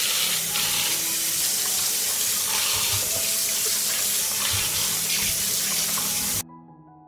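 Tap water running into a kitchen sink while fresh tomatoes are washed, a loud, steady close rush of water that cuts off abruptly at the end, with no talk.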